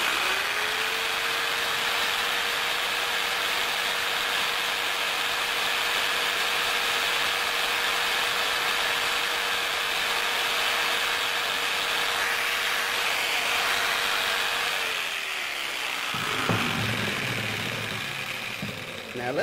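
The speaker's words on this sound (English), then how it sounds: "This is the 300 watt jigsaw." A 300 watt jigsaw run from a portable power station, a steady whining motor hum held for about fifteen seconds, then winding down to quieter handling noise.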